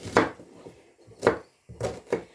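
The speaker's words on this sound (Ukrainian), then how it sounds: "Швиденько зараз нарізаю цибульку." A knife chops through onion on a board in four crisp, separate strokes with short pauses between, close and fairly loud.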